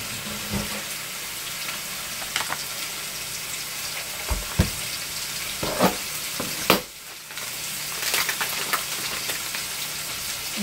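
Sausage fries in a pan with a constant crackling sizzle, punctuated by a few utensil taps and a brief dip as it is moved.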